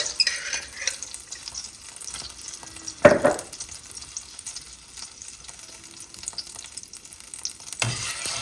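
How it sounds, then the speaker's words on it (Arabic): Sweet pepper paste with a little butter is sautéed in a pan, a faint, soft sizzle with occasional stirring scrapes and a brief louder clatter midway, alone without talk. "وراح ابدي احمسه كل زين"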